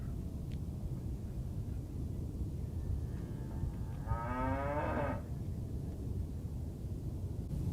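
A single long cow moo, drawn out for about a second, sounds from a distance over steady loud wind noise outdoors.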